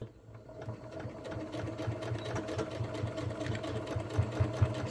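A sewing machine stitches a seam along a dress sash in a fast, even mechanical whir that grows slightly louder and stays close, with no talking.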